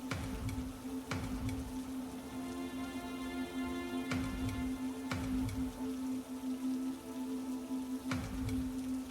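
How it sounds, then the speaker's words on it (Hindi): Steady monsoon rain pattering on leaves along a trekking trail to Devkund Waterfall in Maharashtra, a dense continuous hiss with heavier drip bursts every few seconds and a constant tonal hum running underneath. "चारों ओर बारिश की आवाज, पत्तों पर गिरती बूंदें"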